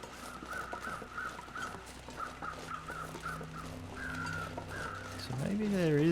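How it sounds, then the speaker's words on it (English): Crows cawing in The Long Dark, heard as a repeated run of faint, distant caws over a steady wind-like background, with no talking. "Hear more crows, but I think they're just down at that island."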